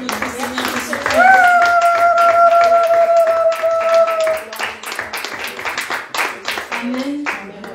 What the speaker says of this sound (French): Acclame encore pour notre Seigneur Jésus-Christ.